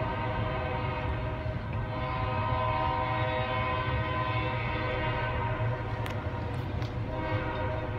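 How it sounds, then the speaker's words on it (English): A Norfolk Southern intermodal train approaches through downtown Johnson City as a steady, heavy rumble of engines and rolling cars with a held horn tone layered over it, loud and continuous. "There's a train headed our way on the Norfolk Southern line in Johnson City."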